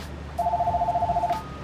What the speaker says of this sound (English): Hold on, the phone's ringing, 1 sec.